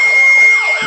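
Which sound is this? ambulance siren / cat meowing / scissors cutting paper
ambulance siren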